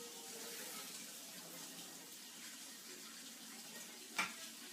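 Rice being rinsed under a running kitchen tap, a faint, steady wash of flowing water with a single short knock near the end.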